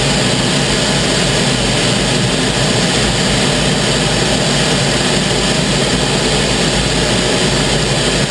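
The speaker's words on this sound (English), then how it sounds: "is a jet trainer aircraft." A T-33 jet trainer roars steadily overhead at an airshow, a loud continuous engine drone with a broad hiss that holds at constant strength throughout, with no voices.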